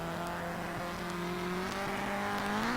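Rallycross race cars sit revving on the starting grid at a NASA RallyCross event, a steady, loud multi-engine drone with rising pitch toward the end, no talk.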